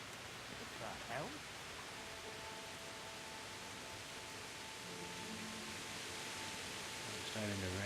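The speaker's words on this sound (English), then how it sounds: "It's starting to rain." Steady broadband rain hiss fills a medieval countryside scene in Kingdom Come: Deliverance, continuous and even throughout, with brief faint voices or game sounds near the start and end.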